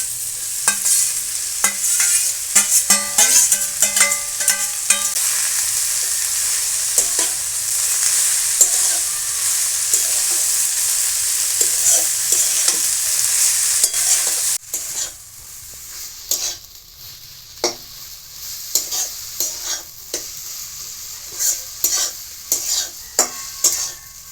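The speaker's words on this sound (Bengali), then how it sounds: "আমি খুব ভালো করে একটু নেড়ে নিয়েছি পালং শাকগুলো" Chopped spinach fries in a pan under a continuous hiss of oil, with repeated clinks and scrapes as it is stirred; the sizzle softens partway through, and sporadic stirring knocks carry on.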